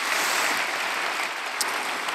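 Church congregation applauding after a sermon, a steady wash of many hands clapping together at a moderate distance, sustained and fairly even throughout with no voices over it.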